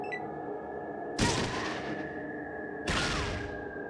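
Two heavy gunshots in the video game Fallout ring out about a second and a half apart, each a loud sharp blast with a long decaying tail over a steady background hum.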